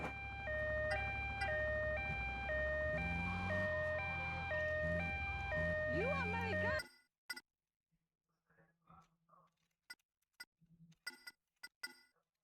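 A two-tone ambulance siren from the video game GTA Vice City Stories wails loudly and steadily for several seconds, then cuts off abruptly and leaves a few faint scattered sounds behind.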